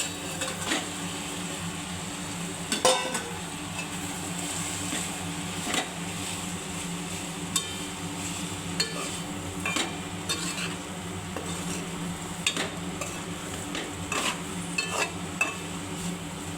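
Boiled pasta is stirred through a sizzling pan, with a spoon scraping and clinking against the metal at irregular intervals over a constant, close frying hiss.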